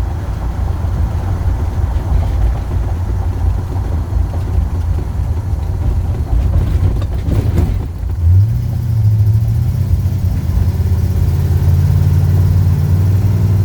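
A 1948 Chevy crew cab COE cabover truck engine runs close by, a loud, steady idle with a deep rumble that settles into a smooth, even hum over the later seconds.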